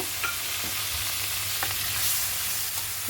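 Black cumin and dried chilies sizzle in hot oil, a continuous crackling hiss with a few soft pops and stirring scrapes, close and steady with no voices.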